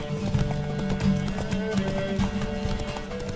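Horse hooves clip-clop in a fast, steady gallop during a race in The Witcher 3, close and continuous over a low game score, with an occasional snort or whinny.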